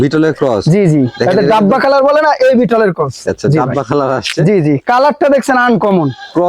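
Goats bleat repeatedly, loud and close, a string of wavering nasal cries overlapping with someone talking.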